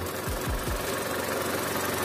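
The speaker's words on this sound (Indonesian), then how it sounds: "Suara mesin aduhai" A repaired Chevrolet Captiva petrol engine idles smoothly. The hum is steady and close, with a few low thumps near the start and no voices.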